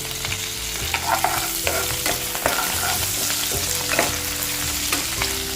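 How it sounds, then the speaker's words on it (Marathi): Curry leaves and asafoetida hit hot oil over softened onion in a pan, crackling and sizzling steadily with sharp spitting pops and occasional stirring scrapes, close and fairly loud. "कढीपत्ता घालते हिंग घेतलाय तो घालते"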